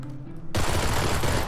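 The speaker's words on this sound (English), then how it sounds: "did you shoot at me?" Gunfire in PlayerUnknown's Battlegrounds comes in as a sudden loud burst of sustained shooting after a quieter moment, close and dense, with no talk over it.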